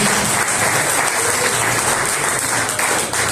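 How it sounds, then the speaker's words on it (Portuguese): Church congregation applauding to welcome the pastor at a Pentecostal service, a dense, steady clapping that stays loud and close for the whole stretch with no talk over it. "Vamos receber o pastor com palmas bem alegre?"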